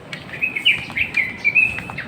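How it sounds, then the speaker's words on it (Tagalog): Several birds chirp and tweet in quick, lively bursts in the morning in the countryside, fairly close, with short high calls repeating over a quiet background. "Yung mga ibon tumutunog na rin."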